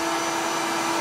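A vacuum cleaner runs steadily with a loud, constant whining hiss, close and unbroken throughout with no talk.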